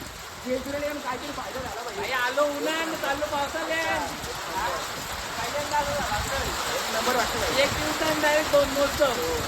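Rain falls steadily in a constant broadband hiss at Jejuri while someone talks over it.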